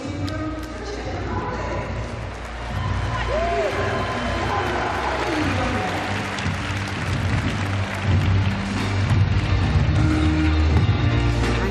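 An indoor stadium crowd at a world championship women's triple jump final swells into a broad murmur and rising roar after a jump, with a commentator talking over it.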